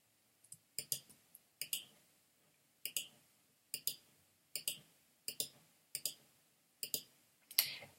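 Computer mouse clicks come in a sparse series of about a dozen sharp, close taps, some in quick pairs, against near silence.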